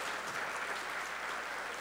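An audience at a municipal council plenary session applauds a woman who survived violence, a dense and steady burst of many hands clapping together that fills the hall.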